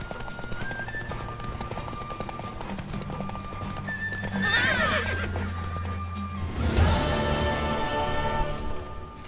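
Hooves clip-clop in a fast, steady gallop in a video game, and a loud horse neigh breaks out partway through.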